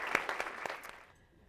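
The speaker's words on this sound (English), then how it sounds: "let's give ourselves all a huge round of applause" An audience gives a short round of applause with a few sharp claps that quickly fade out.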